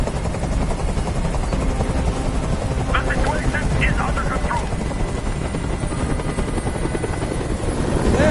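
A helicopter hovers close by in the Detroit: Become Human video game, a steady loud rotor drone that lasts throughout while a voice speaks over it.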